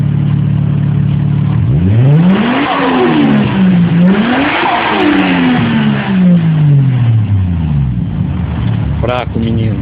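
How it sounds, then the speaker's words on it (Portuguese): A car engine revs hard in repeated surges, pitch climbing and falling in sweeping waves, loud and close, with a final burst of revving at the end. "O motor do Sidão."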